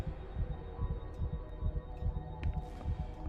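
Game heartbeat from Call of Cthulhu: Dark Corners of the Earth, a steady, low, throbbing double pulse repeating quickly and evenly over a humming background, with no talk.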